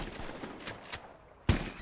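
Gunfire aimed at spoonbills in the Red Dead Online video game, a few muffled shots in quick succession followed by one sharper, louder blast near the end.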